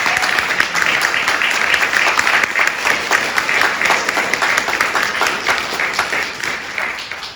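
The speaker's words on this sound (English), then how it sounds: "I'm going to clap for that." A theatre audience applauds at a poetry reading honouring a West Coast poet, sustained dense clapping that stays loud and steady for several seconds before easing slightly at the end.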